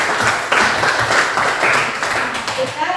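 Audience applause at an Indonesian talk, dense loud clapping filling the whole stretch, fairly close and steady with slight swells.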